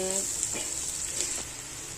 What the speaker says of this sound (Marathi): आता हे ना चांगलं तेलामध्ये भाजून द्यायचं